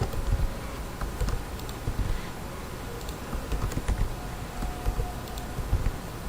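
Expenses being typed into an Excel file on a computer keyboard: a busy run of light, rapid key clicks close up, with a faint steady hum underneath and no talk.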